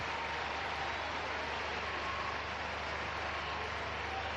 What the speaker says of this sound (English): Big round of applause for the woman wearing the armband today.